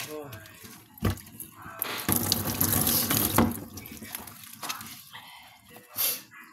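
Water gushes from a tap in a rushing burst with clattering knocks around it, and a voice talks nearby.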